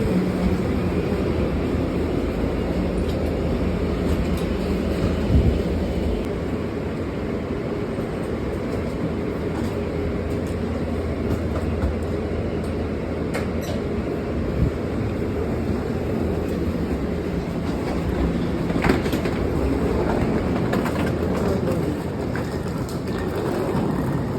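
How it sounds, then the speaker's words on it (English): A steady, heavy rumble of a train arriving at a station rolls on continuously with rattling and clanking, faint squeals and clicks scattered through, no voices heard. "Train arriving. Please stand clear of the doors."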